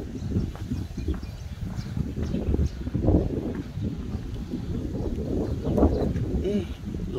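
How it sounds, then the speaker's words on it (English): Strong wind buffets the microphone in the alleys of Jerusalem's Old City, a continuous low rumbling roar under a man's speech. "Lots of wind, which is good for me."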